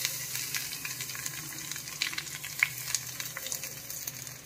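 Garlic frying in hot oil with curry leaves for South Indian rasam, a close, steady sizzle and crackle with a few brighter pops, alone with no talk.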